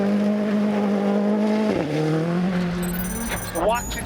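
A Ford Fiesta rally car with a short gear ratio drones at speed on a forest rally stage in Cork, its engine note steady and loud, then dipping and rising through a gear change, with tire noise and faint chatter near the end.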